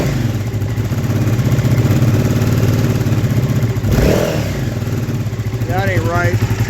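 A KTM 950 Adventure motorcycle engine idles loudly close by while running on only one cylinder and leaking fuel, giving an uneven, lumpy throb. Someone speaks briefly over it.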